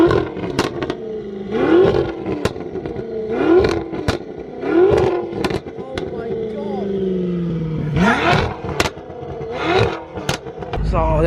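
A 1000bhp tuned BMW M5 F10 with a titanium exhaust revs in repeated sharp bursts, each rising and dropping back, close and loud with crackles and voices talking between blips.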